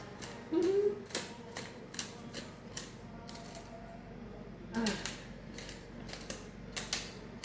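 A pepper grinder cranks out fresh coarse pepper in short, faint, irregular bursts of dry crunching and clicking, close up in a quiet kitchen.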